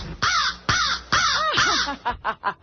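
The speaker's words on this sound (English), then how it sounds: "That's a crow." A crow caws several times in a row, loud and close, with harsh repeated calls that grow shorter and quicker toward the end, no voices present.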